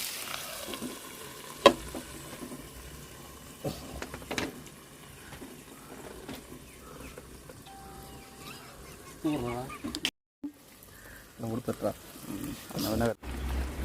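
Fish caught from a stream fry in a pan outdoors with a steady low sizzle, broken by occasional stirring clatter and a few sharp knocks, with quieter bird and insect sounds in the background.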